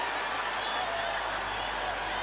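Concert crowd applauding a performance, a dense, steady wash of clapping from a large audience that fills the whole short stretch.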